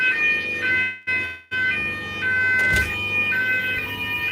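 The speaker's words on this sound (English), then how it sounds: "Alarm just went off now." Building alarm sounding loudly nearby, a steady electronic siren tone with a brief cut-out early on before it resumes and keeps going.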